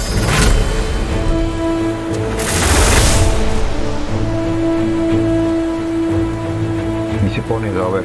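Rain begins to fall in the fantasy role-playing game Divinity: Original Sin II, a steady broadband wash with a louder gust of downpour partway through, layered over a sustained musical drone and soft ambient tones.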